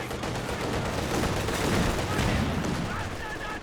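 Dense, continuous gunfire from a machine gun rattles through a Company of Heroes 2 battle, loud and unbroken, packed with overlapping shots and explosions.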